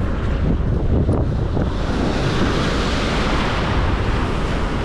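Heavy ocean surf surges and crashes against rocks at a rock fishing spot at Avoca, a loud continuous roar of water thick with wind buffeting the microphone, with no voices.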